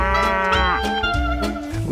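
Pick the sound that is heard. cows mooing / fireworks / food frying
cows mooing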